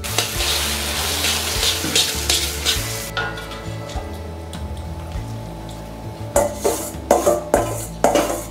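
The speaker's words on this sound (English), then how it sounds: "Add the noodles and stir well." Noodles frying in a wok with broth while being stirred, a busy sizzle under clattering metal scrapes that fades to a low hiss midway, then sharp rhythmic clanks of the utensil against the wok.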